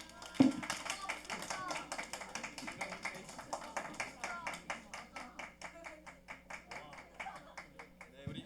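Sustained applause from a church youth congregation celebrating newly confirmed members, many hands clapping steadily for about eight seconds, the rhythm growing more distinct and gradually thinning toward the end.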